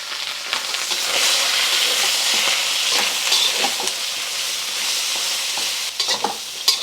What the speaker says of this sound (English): Just stir frying for 3 minutes or so until your vegetables are tender